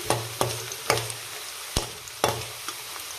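Peanuts and onions frying on a medium flame under a low sizzle, punctuated by about seven sharp spoon strikes against the pan at an uneven rhythm, close and clear.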